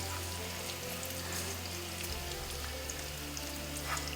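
A teaspoon of mustard seeds sizzles in hot oil in a pan for an okra curry, making a steady crackling fry with scattered small pops, close and continuous.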